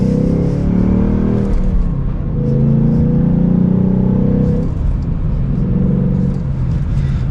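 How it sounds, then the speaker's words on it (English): A 2022 Ford Mustang GT with a six-speed manual accelerates hard, its loud V8 rumble climbing in pitch, dropping at a gear change, then pulling again, heard up close without speech. "And we'll do one last acceleration for today's video."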